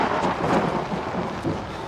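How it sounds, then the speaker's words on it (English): Thunder rumbles through a heavy rainstorm in the horror video game Outlast. A loud, broad wash of rain keeps going throughout, with the rumble swelling and fading underneath and no speech. "Man, thunder."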